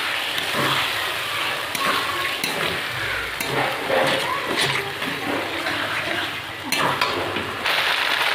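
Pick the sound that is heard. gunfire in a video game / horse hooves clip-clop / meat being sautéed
meat being sautéed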